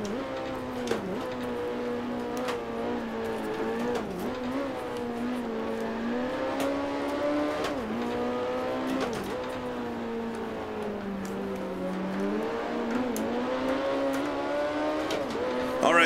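Vintage Grand Prix race car engines in the Grand Prix Legends video game, a steady high-pitched whine rising and dropping with gear changes, joined by brief tire squeals, loud and continuous with no talk.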